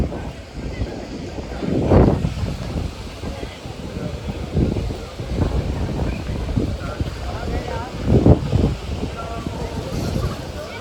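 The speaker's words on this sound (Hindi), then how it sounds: "हवा की इंटेंस आप देख सकते हो किस तरीके से है" Strong gusts of wind buffet the microphone on the river at Banaras, rising in heavy rumbling bursts around boat and water noise, loud and close throughout.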